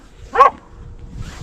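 A single short, loud bark from a hunting dog in a pack running rabbits, near and alone, followed by faint yelps in the distance.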